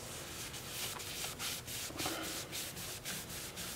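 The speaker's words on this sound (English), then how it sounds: "it sanded up easily and really, really nicely, really smooth" Sandpaper rubs steadily over a wood-turned elephant foot bowl, a rhythmic series of close, scratchy strokes about every third of a second with no talking.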